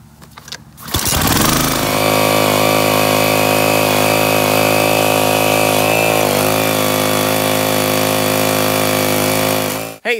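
A Honda push mower engine retrofitted onto an MTD log splitter catches after a brief pull and settles into a loud, steady close-up idle drone lasting nearly ten seconds before cutting off.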